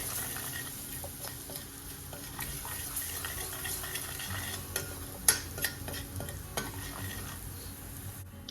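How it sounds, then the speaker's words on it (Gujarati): Spices for Mumbai ragda bhel sizzle and crackle as they roast in a hot pan while a spoon stirs, with a few sharper scraping clicks; no talking. "આ બધા મસાલાને આપણે 1 મિનિટ સુધી બરાબર શેકી લઈશું"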